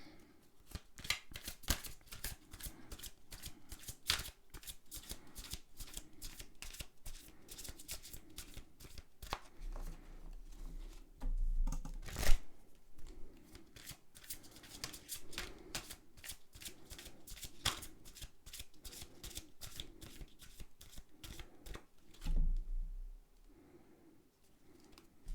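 Tarot cards shuffled repeatedly for several draws, a steady run of crisp riffling and papery flutters with brief pauses, close and moderately loud, with no voices.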